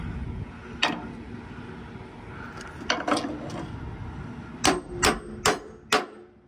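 A mallet pounds on part of a truck with about eight sharp, ringing knocks: scattered single blows and a pair early on, then four evenly spaced strikes in quick succession, over a low background hum.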